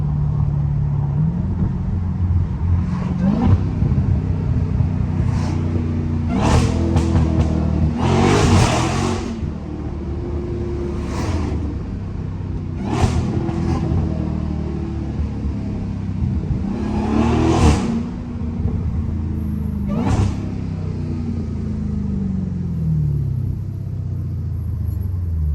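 Dodge Hellcat engine accelerating on the road, a deep sustained rumble with repeated surges of revving and gear changes, loud and close from inside the car, with no talking.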